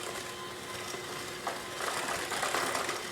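Cupcake batter with vanilla extract being mixed, a steady mechanical whirring that grows slightly louder and busier halfway through.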